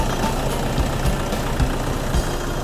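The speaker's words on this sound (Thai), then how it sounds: "เครื่องยนต์เดินเรียบ" A Toyota Vigo pickup truck engine idles with a steady, low rumble throughout, with faint rhythmic knocks pulsing under the drone and no voices.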